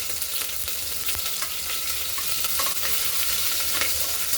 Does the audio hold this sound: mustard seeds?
yes